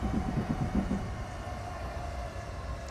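A Dutch train in the Train Simulator Classic game brakes into a platform with a low, steady rumble of wheels and running gear that gradually eases, with no talking over it.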